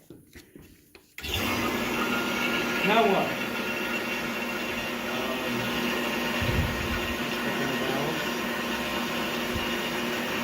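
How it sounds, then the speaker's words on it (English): A vacuum pump for HVAC work switches on and runs as a loud, steady mechanical drone with a constant whine, going on for several seconds after a brief stretch of talk at the start. "Turn on the vacuum pump."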